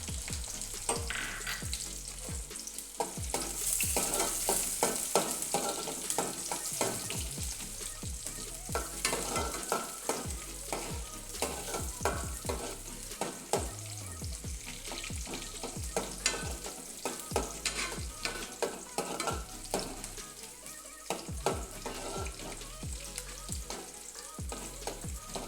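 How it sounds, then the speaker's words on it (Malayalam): Vegetables with long-cut green chili sauté in a pan, a continuous close sizzle and fry broken by frequent scraping stir strokes, steady and moderately quiet throughout. "എന്നിട്ട് ഇതൊന്ന് വഴറ്റിയെടുക്കാം."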